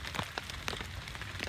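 Rain pours during a stormy outing to check snake traps by a river, a quiet patter on surfaces broken by scattered sharper drops at irregular intervals, with no speech.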